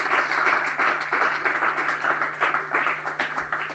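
A church congregation claps steadily, a dense wash of applause that stays even and sustained throughout, with no voices on top.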